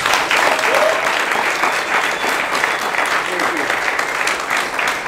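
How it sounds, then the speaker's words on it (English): Audience applause at an evening event hosted for the Commandant of the Corps of Cadets: dense, steady clapping from a sizeable crowd, close and full for about five seconds, with a few voices mixed in. "let's go ahead and give them a round of applause real quick"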